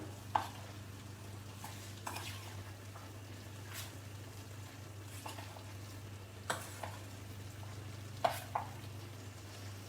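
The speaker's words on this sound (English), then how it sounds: "Now we mix everything together." Spices and hing are stirred and folded into a dish while cooking: soft, intermittent spoon scrapes and light clicks recur irregularly over a low, steady background hum, quiet and without talk.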